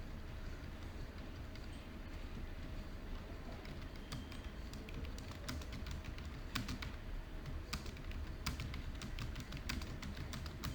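Rapid, light key clicks from a computer keyboard come in quick bursts while random text is entered into a PowerPoint text box. The tapping is faint and sits over a quiet, steady background hum.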